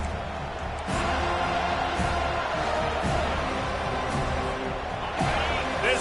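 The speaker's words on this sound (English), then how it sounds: "This crowd trying to make life miserable for this offense." A college football stadium crowd roars steadily and loudly in a video game matchup against Notre Dame, with a commentator's voice over the noise.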